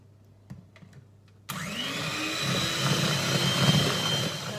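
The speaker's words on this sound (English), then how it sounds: "So I'm just going to put my mixer on speed 1 and away we go." An electric mixer on its lowest speed beats cake batter of butter mixture, starting abruptly after a moment of quiet and then running as a steady, close whirring drone.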